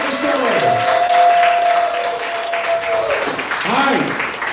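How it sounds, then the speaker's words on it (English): A poetry slam crowd applauds a poet at the Southern Fried Poetry Slam, a loud, dense, steady wash of clapping lasting several seconds with some voices calling out underneath. "Clap for the poet for the story."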